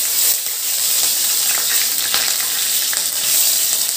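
Green chillies dropped into hot oil for prawn curry, giving a loud, dense, continuous frying sizzle close up, with a few faint stirring scrapes underneath and no voices.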